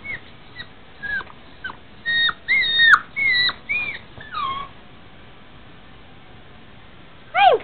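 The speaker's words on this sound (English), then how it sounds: "she's a purebred border collie" A purebred border collie puppy whimpers and yips in short, high, rising and falling cries, several in a row, then a pause before one last whine, close and clear with no talking.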